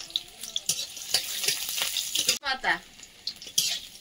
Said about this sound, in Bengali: ওই তেলের মধ্যে দেবো গোটা রসুন,